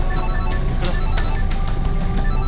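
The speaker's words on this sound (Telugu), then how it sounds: "ఇక్కడ ఫోన్ రింగ్ అవుతున్న సౌండ్" A phone rings inside a jeep during a Telugu film scene with Venkatesh and Kamal Haasan, heard as a loud continuous electronic tone with pulsing accents over a dense background.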